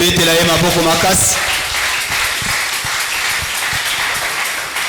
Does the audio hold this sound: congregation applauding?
yes